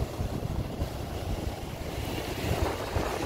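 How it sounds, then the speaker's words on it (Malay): Ocean surf rolls onto the Aceh seashore as steady wind buffets the microphone, a continuous, moderately loud wash of waves with no talk. "Ini suasana laut samudra ya, ini laut samudra."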